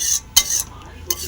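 Gravy is stirred in a pan with a metal utensil, producing a few short clinking scrapes against the pan with brief quiet gaps between them, close and without talk.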